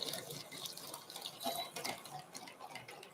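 Boiling water is poured into a bowl for dumpling dough while chopsticks stir, giving a faint trickle with light drips and small clicks, quiet and close.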